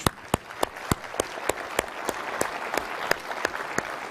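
Audience at a helicopter safety symposium applauding after a talk on accidents and risk in public helicopter operations: a steady wash of hand claps, with some sharp, evenly spaced close claps standing out on top.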